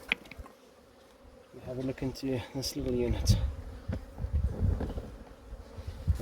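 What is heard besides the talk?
honey bees buzzing at mating nucs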